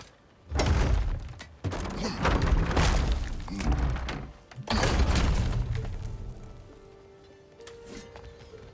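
Wooden barrels are shot and smashed in God of War Ragnarök, giving several loud thunks and splintering breaks in quick bursts, then a quieter tail of debris and ambient game sound.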